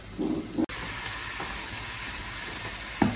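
Butternut squash browning in a pan over high heat gives a steady, fairly soft sizzle with a brief stirring clatter near the start and another near the end.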